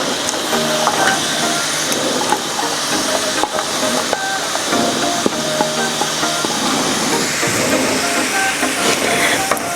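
Sliced onions dropped into a simmering sauce of mirin and sugar for Japanese oyakodon, giving a loud, steady hiss and bubbling sizzle with scattered crackles and scraping throughout.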